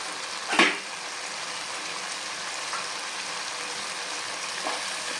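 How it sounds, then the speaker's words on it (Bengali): Masala spice paste frying in oil for a jackfruit kofta curry gives a soft, steady sizzle, with a sharper clink or scrape near the start and a couple of fainter stirring sounds later. "মশলাটা ভালো করে কষিয়ে নিয়েছি দেখেন তেল ছেড়ে দিয়েছে"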